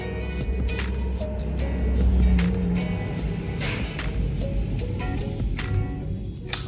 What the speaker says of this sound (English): Is the truck back?